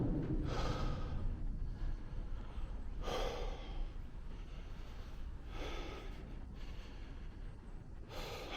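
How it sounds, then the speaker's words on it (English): A person breathes heavily after a walk, with several deep, audible gasping breaths in a slow rhythm, close and fairly quiet, no speech. "I'm breathing heavy."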